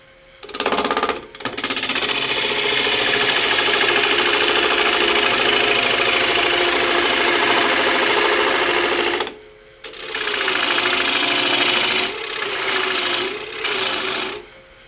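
A bowl turned on a wood lathe with a bowl gouge, mounted without a chuck, gives a loud, close, sustained motor hum and buzzing cut that runs steadily for several seconds, drops out briefly twice, then resumes.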